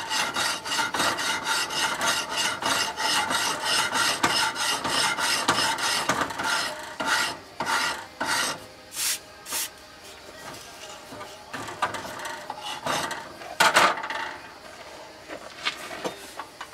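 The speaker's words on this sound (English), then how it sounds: "I'm just going to work the rasp file and the sandpaper and see how far I get." A rasp file works a stone entrance frame on an Italian farmhouse, steady rhythmic scraping strokes close up, rapid at first and then slower, more spaced rasps with brief pauses between.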